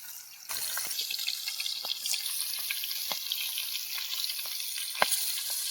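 Small wild birds fry in oil in a pan, giving a steady, close sizzle with faint crackles and occasional light clinks throughout, alone without talk.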